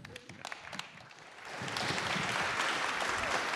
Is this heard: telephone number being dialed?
no